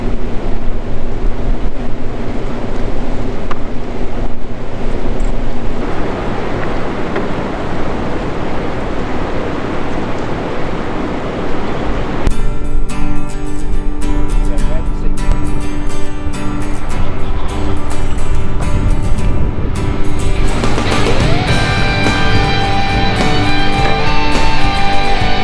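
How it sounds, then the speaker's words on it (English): Water rushing out of a river lock, a loud, continuous roar of churning rough water, growing harsher and brighter partway through. "They're letting the water out of the lock."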